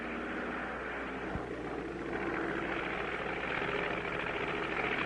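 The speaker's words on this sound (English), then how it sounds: "We're going to thread a needle with an airplane." A propeller airplane engine drones steadily in a 1959 color cartoon, a loud continuous hum that swells slightly partway through, with no talking.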